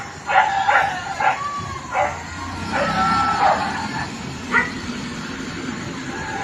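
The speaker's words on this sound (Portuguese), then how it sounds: "Ó, tem um cachorro lá mesmo." A dog barks at night in the rural interior of Maranhão, Brazil: a series of repeated barks at moderate distance, irregular in rhythm, over a steady background of night ambience.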